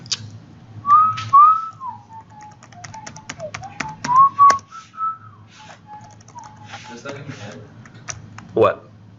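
A person whistles a wandering, melodic tune indoors, the notes gliding up and down at moderate volume, with scattered keyboard-like taps and clicks around it.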